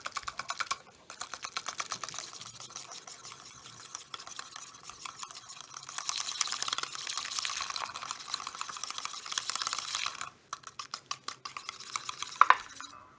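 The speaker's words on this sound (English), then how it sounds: "So I'm going to go ahead and mix this" Wet ingredients for keto snickerdoodle cookies stirred in a bowl, giving a steady run of quick clicking, scraping strokes from a utensil against the bowl, close and fairly loud, with short pauses between bursts.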